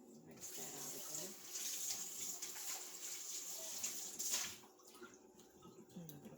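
Water runs from a kitchen tap while vegetables are rinsed for pickling, a steady splashing stream into the sink that swells near the end, then stops abruptly, leaving quiet drips and small movements.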